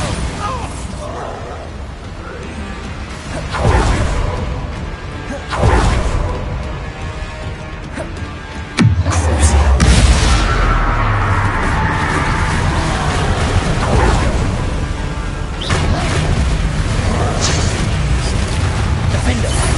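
Bombarda blasting spell in the Hogwarts Legacy video game: several heavy booming blasts and crashes burst over continuous loud battle noise, one especially big impact midway, with voices speaking through it.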